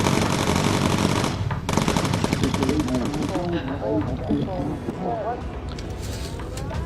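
Rapid machine gun fire rattles in the bomber aircraft video game Bomber Crew over engine drone, loud and continuous at first, then thinning out while players talk over it.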